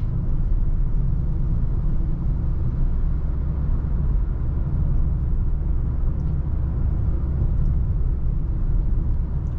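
A Fiat Strada Ranch 1.3 automatic CVT pickup engine accelerating, a steady low rumble and drone heard from inside the cab, continuous and moderately loud.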